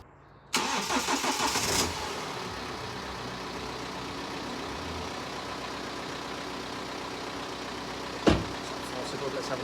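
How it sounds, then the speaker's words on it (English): BMW 318d diesel with a fuel leak, its fuel system being primed as the engine starts and settles into a quiet steady idle, with a short sharp knock near the end. "I can pressurise this system, can get the fuel pump working, which is going to prime this system and get rid of that air"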